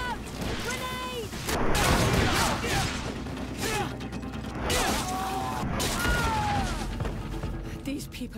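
Combat sounds from the video game GreedFall after a grenade warning: bursts of gunfire and impacts with booming swells, mixed with shouting voices and music-like tonal sweeps, loud and busy throughout.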